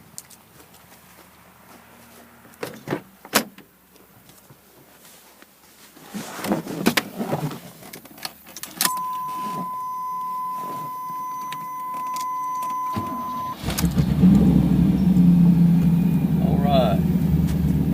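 A 1991 Pontiac Trans Am convertible is started: scattered clicks and handling noises, a long electronic warning chime, then the engine cranks and catches into a steady, loud idle rumble near the end, with someone talking earlier.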